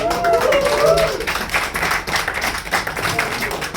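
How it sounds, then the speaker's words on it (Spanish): Audience applause for a reader at a poetry anthology presentation, a modest round of clapping with scattered taps, voices and murmurs mixed in, steady then slightly thinning toward the end. "vamos a darle un fuerte aplauso a Karina Locke"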